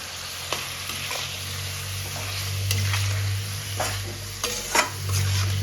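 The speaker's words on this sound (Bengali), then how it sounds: "চিকেনটা ভালো করে আমি ভেজে নেব" Chicken frying in a pan for chicken tehari, seasoned with black pepper, chilli powder and salt: a steady close sizzle with occasional spoon-scraping stirs, and no talking.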